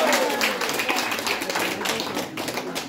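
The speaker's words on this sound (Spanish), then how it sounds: "estos son los aplausos para ti" Elderly audience at a Christmas celebration clapping for a singer, a brisk burst of many hands applauding at close range, steady and fairly loud, fading slightly toward the end.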